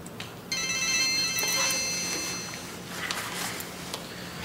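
A telephone ringing with an incoming call, a repeated electronic ring that starts after a half-second of room tone and pulses on under faint background noise.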